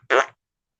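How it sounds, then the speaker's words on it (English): A single short, loud fart, a brassy raspy burst of about a quarter second, stands alone with a faint puff just before it. "Somebody farted."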